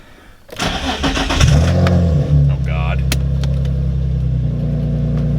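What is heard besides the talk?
car engine starting and running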